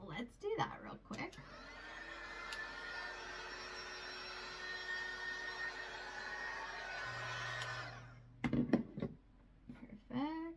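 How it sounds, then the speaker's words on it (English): A handheld craft heat tool blasts a steady, loud whooshing roar for about seven seconds while drying paint on a Christmas cardinal project, then cuts off; talk can be heard before and after it. "Might even take our heat tool and give it a good blow dry real quick"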